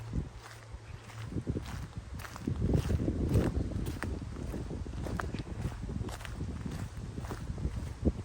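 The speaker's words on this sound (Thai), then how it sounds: "ลมก็จะแรงเนาะ เสียงรบกวนหน่อยนะคะ" Strong wind buffets a phone microphone beside a freshwater pond, a steady rumbling roar with louder gusts, accompanied by scattered crunchy footsteps; no clear talk.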